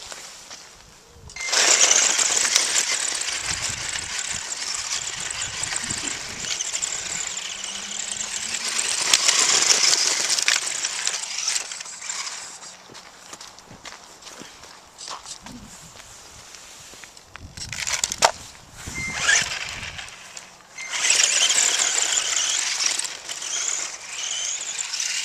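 A Tamiya Rising Storm RC car with a 17-turn electric motor and Pro-Line Dirt Hawg 2.2 tyres drives on damp, compact clay. Its motor whines in high bursts that rise and fade as it passes, with gaps and some footsteps nearby.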